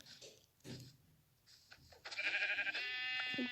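Sheep in a video game bleat twice in close succession, clear and fairly loud over a quiet background with a few soft clicks beforehand, no talking.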